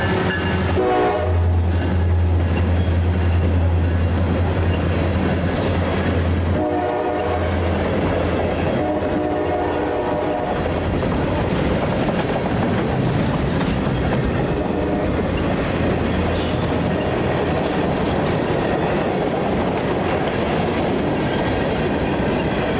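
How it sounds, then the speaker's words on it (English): CSX local freight L779 rolls past near Plant City, Florida, on the connection from the S line to the A line, its horn blaring long and loud over steady rumbling railcars and clattering wheels. "L779 had just taken the connection track from the S line to A line to head back to Tampa."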